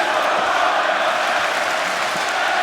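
A large wrestling arena crowd at AEW All In roars and cheers continuously, a dense, loud, sustained wall of voices with no breaks.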